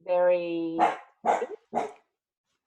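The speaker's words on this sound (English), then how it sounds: "Sorry, that was my dog." A dog gives a drawn-out whining yelp, then three short, loud barks in quick succession, close by, with a voice in the background.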